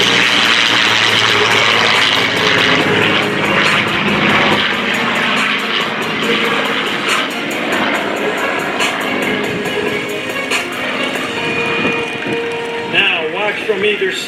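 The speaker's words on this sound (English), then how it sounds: "Now watch from either side as the closure rate for these two aircraft will top 550 miles per hour." Two aircraft at the Westmoreland County International Airshow roar past in a loud, continuous engine wash with shifting pitch as they close from opposite sides, under a commentator's voice over a PA.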